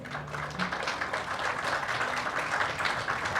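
An audience applauding steadily at a literary talk, a dense wash of many hands clapping at once, fairly loud and continuous throughout.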